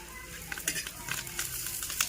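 Curry leaves hit hot oil over a wood-fired clay stove and crackle and sizzle up close, with bright popping bursts over a steady hiss.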